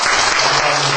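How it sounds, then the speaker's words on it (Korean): A church congregation breaks into loud, dense applause for newly appointed choir members during a service, close and filling the whole moment. "우리 뜨거운 박수 한번 드리겠습니다."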